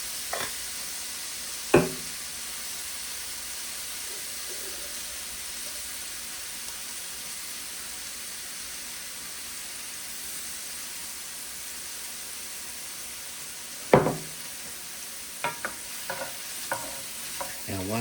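Vegetables caramelizing in a pan, seasoned with salt and pepper, for a harvest dinner: a steady close sizzle and frying hiss runs throughout, broken by a few sharp scrapes of stirring near the start and toward the end.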